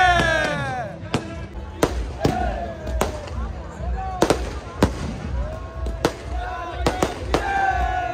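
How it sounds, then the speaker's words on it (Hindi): Fireworks at a Dussehra celebration in Alwar during heavy rain burst in a rapid irregular string of sharp cracks and bangs, some with whistling trails, while voices and crowd noise carry on underneath. "भाई फुल आतिशबाजी, आतिशबाजी का फुल सीन चल रहा है।"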